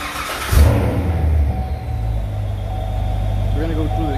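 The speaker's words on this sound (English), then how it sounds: "We're gonna go through the gears a couple times." A 2015 C7 Corvette engine runs with its 8L90 eight-speed automatic transmission, a low steady hum that swells briefly near the start and then settles, with people talking over it.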